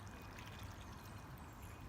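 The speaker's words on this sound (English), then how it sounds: "I water them in with the vodka mix so that I bring the water to the base of the bulb" Water mixed with vodka poured onto forcing flower bulbs in a container, a steady close wash of liquid running for the whole stretch with no pauses.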